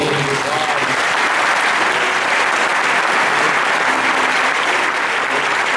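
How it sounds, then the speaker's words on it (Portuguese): A church congregation at a morning service bursts into loud, dense applause, a continuous wash of many hands clapping close by and evenly sustained without any speech. "Dê um forte aplauso para mim."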